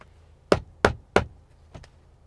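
Knuckles knocking on the hard plastic upper door trim of a 2023 Kia K5 GT-Line sedan, three sharp close knocks followed by a fainter double tap, with no speech.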